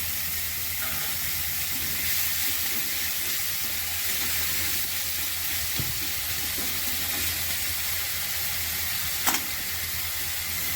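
Three medium onions with a spoon of ginger and salt sizzle steadily in a pan, a soft, even frying hiss that runs throughout, with a few light clinks from stirring.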